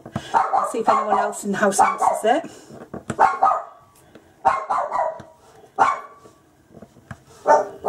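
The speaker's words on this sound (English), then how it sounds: "Sorry about the dog barking in the background." A house dog barks in short bursts in the background, reacting to someone at the door, while a person talks over it in the foreground; barks come in clusters with quiet gaps.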